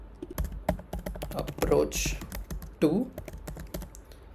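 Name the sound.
typing code on a computer keyboard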